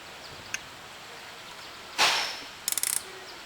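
A tightening tool pressing a rivet master link onto a motorcycle chain, giving a faint click, then a sharp metallic squeeze and a quick burst of ratcheting clicks, close and alone.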